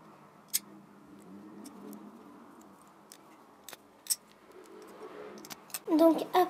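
Scissors snip through polymer clay to cut wing shapes, a few sharp, faint clicks scattered under quiet French talk, with a louder cluster of snips at the end.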